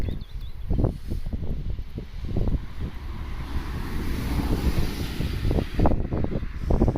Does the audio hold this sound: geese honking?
no